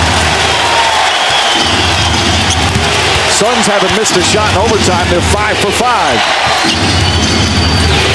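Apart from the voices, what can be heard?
basketball arena crowd cheering in overtime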